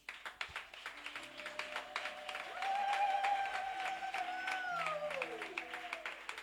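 A church congregation applauds in acclaim of the Archangel Michael, with steady rhythmic clapping that swells midway, all set against sustained tones of singing or music.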